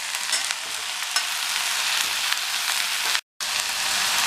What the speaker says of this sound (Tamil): இந்த மாதிரி கொஞ்சம் கொஞ்சமாக சேர்த்து வதக்கிட்டு எல்லா கீரையும் சேர்த்துடலாம்